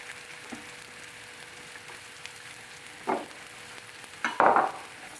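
Courgettes frying with Provence herbs, salt and pepper in a pan for ratatouille, heard as a soft, steady sizzle with a few brief scraping and stirring bursts near the end.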